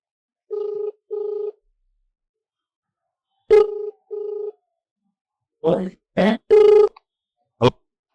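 An outgoing phone call's ringback tone sounds in two clear double rings separated by silence, followed by a few short bursts of a voice on the line.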